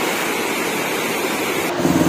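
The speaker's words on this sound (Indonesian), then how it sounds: "Kita lihat guys betapa derasnya aliran sungai di kali Ciawi Gebang." A strong river current rushes by at Kali Ciawi Gebang, a dense, constant roar of water mixed with wind, loud and unbroken, with a faint low hum rising near the end.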